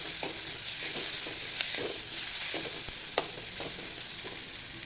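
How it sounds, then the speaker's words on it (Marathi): Drumstick vegetable pods with peanut powder sautéing in a pan make a continuous hissing sizzle, with soft periodic stirring scrapes close by and no voices over it. "आणि छान आता हे परतून घेऊया."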